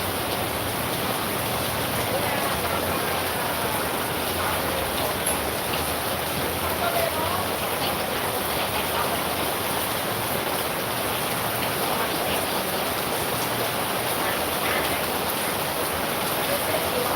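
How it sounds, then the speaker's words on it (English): Rainy-season rain in Da Nang pours steadily in a dense, even hiss that never lets up, heard nearby with faint voices underneath. "Look at the rain."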